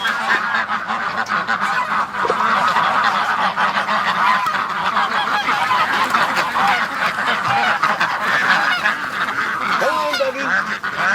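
A flock of ducks and geese honks and quacks loudly and without letup at close range as the birds are let out of their pen, their calls overlapping in a dense, agitated chorus.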